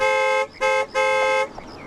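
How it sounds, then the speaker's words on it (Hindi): A car horn honks three times in quick succession: a short blast, another short one, then a longer one, loud and close. "अरे हॉर्न मारो ना भाई"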